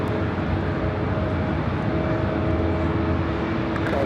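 A Japan Airlines Dreamliner taxis toward runway 24 left at Los Angeles International Airport, giving a continuous, even engine hum with a faint steady whine and no pauses throughout.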